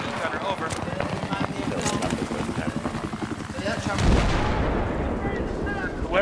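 Rapid machine gun fire rattles through a competitive video game match, dense bursts of shots layered over rumbling battlefield noise, with loud heavy impacts toward the end.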